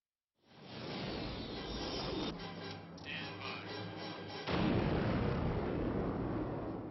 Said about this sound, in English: The sound of explosions has always been a great passion for me.